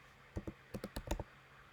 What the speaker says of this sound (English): for me, I'm going to type